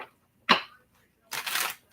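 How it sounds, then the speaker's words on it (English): Tarot cards are shuffled in two short, close riffling bursts separated by a brief silence. "Final shuffle."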